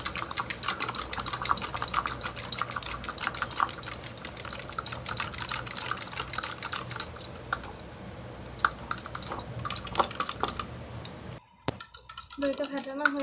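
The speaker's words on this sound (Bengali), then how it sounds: "এটা আমি দইটাকে ফেটিয়ে নেবো ভালোভাবে" Yogurt whisked briskly in a bowl while making paneer masala, a dense run of rapid clicking and scraping strokes, close and steady for most of the stretch before briefly pausing near the end.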